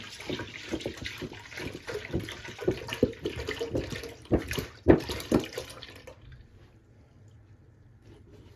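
Milk, about four pints, poured into a pot holding a little water, heard close as an irregular gurgling, splashing stream that stops abruptly, leaving near silence.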